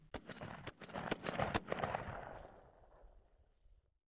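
A toy shotgun fires a rapid burst of sharp cracking shots that fade into a decaying rattle, followed by a brief loud thump at the very end.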